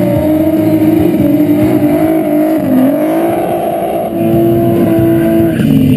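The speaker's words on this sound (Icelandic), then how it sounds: "Sigurð Fannar Sigurðsson í vinstri braut á BMW" A BMW race car on a track at a car festival, its engine roaring loudly and steadily as it drives, with shifting pitch as it accelerates, close and dominant with no speech.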